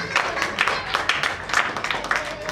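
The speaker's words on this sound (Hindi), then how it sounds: "बच्चों की तालियों की गूंज ने हाल को सराबोर कर दिया" Children applauding inside a hall at a prize-giving ceremony for a constitution general-knowledge quiz in Kanpur, a steady wash of many small hands clapping at moderate volume with rhythmic swells throughout.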